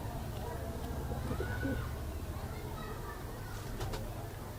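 Pigeons coo softly in the background at a breeder's loft, with low murmuring calls layered over a steady hum and a voice speaking nearby.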